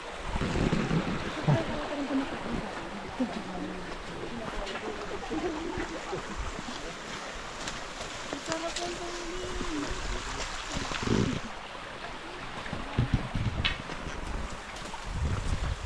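Water of a rocky stream flowing steadily outdoors on a trek to the Mount Pinatubo crater, mixed with wind buffeting the microphone, occasional footsteps and a few faint voices.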